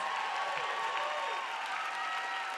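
About 4,000 people applaud at an Optavia conference as speakers finish, a dense, sustained wash of clapping from a large hall crowd with faint cheers.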